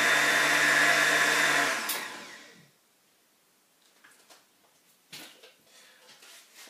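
A kitchen blender whirs loudly in one steady burst for about two seconds, then winds down and stops, leaving quiet handling clatter of the jar and lid afterward. The blend holds spinach.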